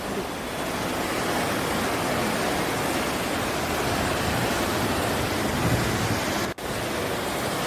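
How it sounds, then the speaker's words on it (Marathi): A loud, constant roar of fast rushing river water at a river confluence in Uttarakhand fills the whole stretch, broad and unbroken, with a brief dip near the end. "खळाळतं पाणी आहे, वेग आहे पाण्याला"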